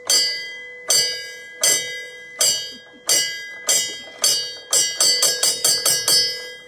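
A bright metallic bell is struck repeatedly, each ring decaying with a ringing tail, first at a steady pace of about one strike per second and then in a quicker flurry of rapid hits at the end.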